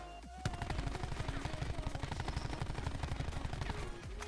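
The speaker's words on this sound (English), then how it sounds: "we're going to test out how this recoil pattern goes" Rapid automatic gunfire from a rifle fitted only with an optic sight in Black Ops 4, a loud, sustained burst of closely spaced shots lasting several seconds before stopping abruptly.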